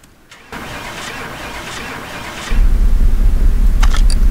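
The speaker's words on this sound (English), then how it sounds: "So let's start the car and I will shut up." An old car's engine cranks briefly in Car Mechanic Simulator 2018, then catches and settles into a loud, steady, rough idle, with no talking.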